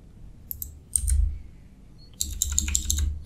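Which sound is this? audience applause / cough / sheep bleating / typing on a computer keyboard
typing on a computer keyboard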